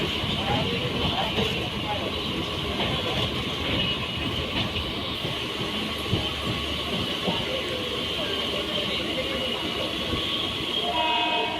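A Pune local train runs steadily at Pune station, near the Indrayani Express, with a continuous close rumble and rattle throughout and a brief horn tone. Voices talk underneath.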